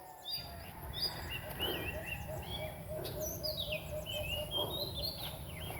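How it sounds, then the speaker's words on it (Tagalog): A bird whistles repeatedly outdoors near a buli palm, sharp bright calls coming in short bursts over a soft rural background, with a few overlapping chirps from other birds. "Ibon oh, sumisipol."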